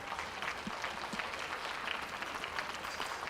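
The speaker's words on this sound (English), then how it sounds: "Let's give a big round of applause for him" An audience at a school livestock show for sheep and goats applauds faintly and from afar, a soft, even patter of clapping without a clear start or finish.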